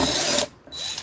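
A power drill drives a self-drilling screw with a loud whirring burst that briefly drops off and then revs up again, close by and with no talk.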